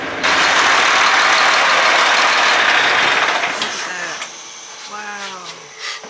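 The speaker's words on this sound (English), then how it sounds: "That thing is loud. What kind of engine is that? Cummins. A big Cummins engine?" A big Cummins diesel engine runs on a commercial oyster boat in the Louisiana bayou, a loud steady roar that drops away after a few seconds, leaving faint voices behind.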